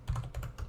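Quick keystrokes on a computer keyboard as a console command is typed for the game Valheim, a handful of soft close taps in rapid succession with no voices.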